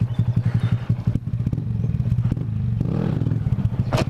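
A stunted-out Honda Grom motorcycle revs hard during a wheelie attempt, its small engine pulsing in fast, loud bursts close by. The pitch rises and falls with the throttle and is briefly broken by a sharp clatter near the end.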